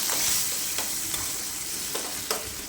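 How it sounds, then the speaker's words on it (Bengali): Three kinds of capsicum, green chilli and coriander fry in butter in a pan: a steady close sizzle broken by a few sharp spatula stirs and scrapes, with no voices. "এই মিশ্রণটাকে আমি ভালো করে একটু ভেজে নেব"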